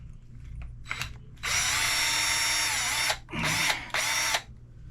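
Power drill removing a 2.5 mm sway bar from an Arrma Limitless RC car: a brief whir, then a long steady drilling run of nearly two seconds and two shorter close, loud bursts, with no talk.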